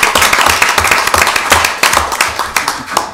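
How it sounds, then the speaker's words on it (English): A room full of people at a planning commission meeting applauds, dense and loud, a steady clatter of many hands clapping close by. "Applause."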